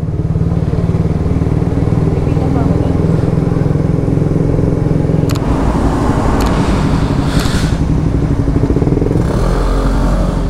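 A Raider 150 Fi motorcycle fitted with a shorty powerpipe exhaust revs loudly and up close in an enclosed space. Its steady throbbing drone picks up and turns rougher after the midpoint.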